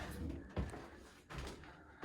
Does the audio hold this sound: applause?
no